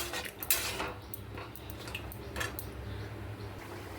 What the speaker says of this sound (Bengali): কত বাসন আছে ধুয়ে নেব জল দিয়ে দিলাম অল্প করে